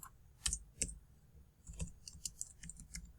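Typing on a computer keyboard, quiet and close, with light scattered key clicks in short irregular bursts and no talk.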